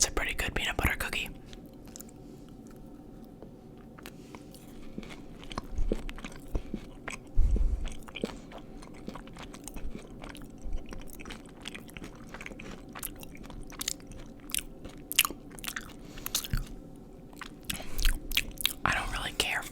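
A Crumbl peanut butter cookie is chewed close to the mic, with soft crunchy bites and wet mouth sounds scattered irregularly over quiet whispering.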